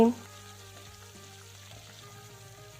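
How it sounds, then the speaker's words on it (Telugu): Oil sizzles softly and steadily on a low flame after a brief louder start as dried red chilli pieces and curry leaves fry for tempering, a faint continuous frying crackle. "ఇలా కదుపుకుంటూ తాలింపుని వేగించుకోవాలి"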